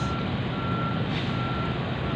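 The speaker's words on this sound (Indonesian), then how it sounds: "Lanjut di belakangnya ada truk." A truck reverses onto a ferry at Merak port while the ship is being loaded, with steady repeating reversing beeps over loud, constant engine and harbour rumble, and no talking.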